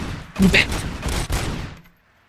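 An automatic gun fires in a short, loud burst in RoboCop: Rogue City, dense rattling shots for about two seconds and then a quick drop to near silence.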